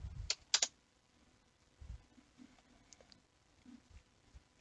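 A few quick keystrokes on a computer keyboard, close and fairly quiet, as a command is typed, with short pauses between clusters of clicks in an otherwise quiet room.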